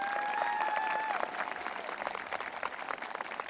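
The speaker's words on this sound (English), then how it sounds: "give your amazing principal a thunderous round of applause" Crowd at a Fort Hill High School graduation ceremony applauds the principal with steady, brisk clapping; a sustained whistle-like tone rides over the first second before the clapping continues alone.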